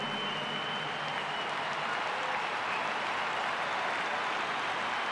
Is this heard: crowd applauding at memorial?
yes